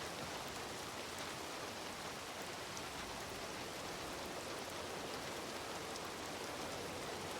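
Steady rain in a Red Dead roleplay game after a storm, a dense even hiss of downpour with no talk, constant and fairly close throughout.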